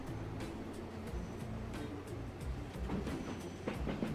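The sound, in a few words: train riding along in the Transport Fever video game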